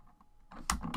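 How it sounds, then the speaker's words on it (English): Quick keystrokes on a computer keyboard while entering a chart axis title in Excel, a few soft taps early then a louder burst of clicks near the end. "we'll type in"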